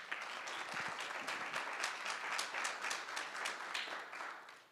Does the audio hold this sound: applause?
yes